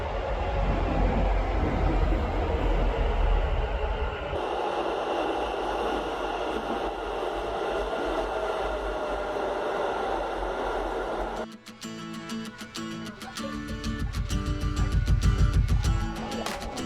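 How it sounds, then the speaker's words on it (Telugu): A Bangalore Namma Metro train pulls into a station with a loud, steady rumble and whine. Near the end it shifts into a rhythmic, closer clatter. No one speaks. "ఓ ఇప్పుడే మెట్రో వచ్చింది."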